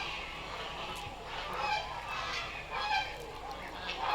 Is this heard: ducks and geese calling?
yes